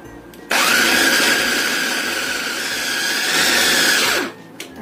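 An electric blender purees grated carrot and corn in one loud continuous whir lasting about four seconds, starting abruptly and winding down at the end, with no voices.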